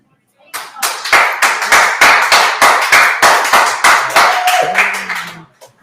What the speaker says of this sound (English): You can tell Emery's brothers really clapping for him tonight